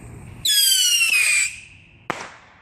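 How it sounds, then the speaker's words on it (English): Bottle rocket fireworks set off outdoors on Memorial Day: a loud, shrill rising whistle lasting about a second, then a sharp pop a moment later, with no voices. "No, these are bottle rockets, baby."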